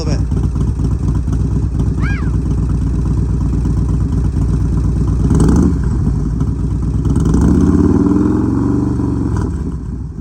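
Motorcycle engine idling with a loud, close mechanical clatter, then revving up in a rising surge before settling back. Voices speak briefly over the engine.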